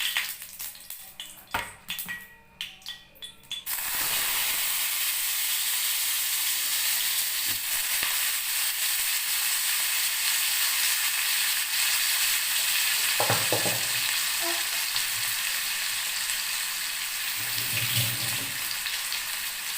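Cut potato pieces hit hot oil, with a few clinks at first, then a loud, continuous sizzle and frying hiss that holds steady, with occasional stirring knocks.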